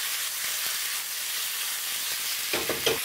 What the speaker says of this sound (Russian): Кальмар сразу начинает обжариваться вместе с чесноком.